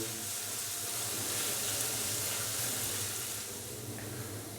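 Garlic paste frying lightly in hot oil for a Chicken 65 dish, a constant close sizzle with a faint low hum beneath it and no talking.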